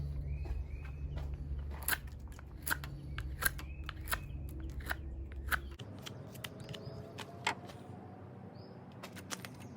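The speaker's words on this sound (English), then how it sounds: "Let's cut a flat right there." Knife or saw cutting a flat spot into a piece of resinous white pine fatwood for a bow-drill setup, giving a series of crisp scraping and crunching strokes, close and fairly quiet, with a low hum under the first half.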